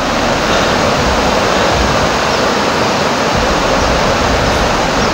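Flowing water from a creek in Laguna, a steady broadband rush that stays loud and even throughout with no talking over it.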